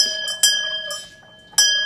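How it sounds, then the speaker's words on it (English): A small bell rings at a breakfast table, two sharp bright strikes with shimmering ringing tones fading between them, close and clear with no talking. "I ring the bell."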